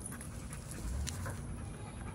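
A small dog pants quietly and rhythmically nearby, with the quick breaths partly masked by low background rumble and outdoor noise.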